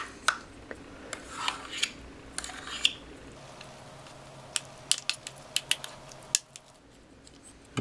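A spoon stirs rice into stew from a civilian 24-hour MRE survival ration, making quiet, close scrapes and scattered light clicks against the container.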